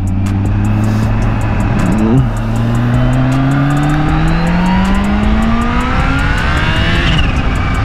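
Kawasaki H2 motorcycle accelerating hard through the gears, a loud near engine whine climbing steeply in pitch, dropping briefly at a shift, then rising again to a high scream.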